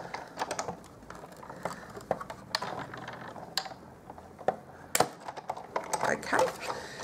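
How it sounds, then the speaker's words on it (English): A Big Shot die-cutting machine cranks paper through its rollers for a floral thank-you card, giving a steady run of close mechanical clicks and ratcheting ticks with a few sharper knocks, fairly quiet overall. "And I'll just run that through the Big Shot."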